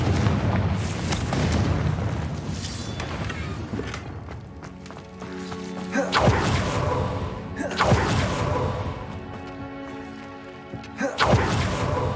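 Confringo fire-blast spell cast in the Hogwarts Legacy video game, heard as booming, thudding bursts of energy over a dense game soundscape, with repeated loud impacts and some background voices.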